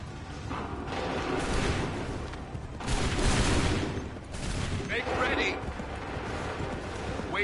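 Ragged musket volleys in Assassin's Creed 3, with several loud overlapping bursts of gunfire, some crackling and rumbling, arriving in waves over a noisy battlefield background.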